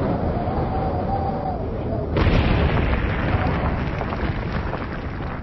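A nuclear blast in the video game Whack Your Boss 2: Fantasy Edition bursts in as a sudden loud boom partway through, then keeps roaring as a dense, rumbling wash over an already noisy game background.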